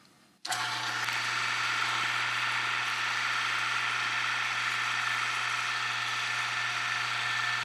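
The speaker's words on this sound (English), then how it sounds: "Now we'll just send all of that meat through the grinder one more time." A meat grinder motor kicks on abruptly and then runs in a steady, loud mechanical whir with a low hum as pork is fed through for a second grind, continuing without pause and with no voices.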